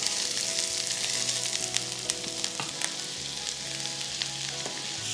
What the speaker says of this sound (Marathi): आता यामध्ये हा उभा चिरलेला कांदा घालूयात सगळा